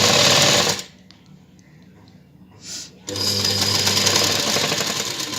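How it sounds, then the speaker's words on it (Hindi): Sewing machine stitching a lehenga blouse, running loud and fast in a steady close whir, stopping for about two seconds with a brief spin in the gap, then starting again. "आपको यहाँ तक इस तरीके से सिलाई लगानी है"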